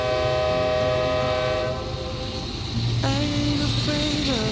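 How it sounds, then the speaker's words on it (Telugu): A train passes on the eastern United States, its horn sounding in sustained tones over a steady rumble and rail noise, loud and close throughout. "సార్, ఆ ట్రైన్ వెళ్తుంది."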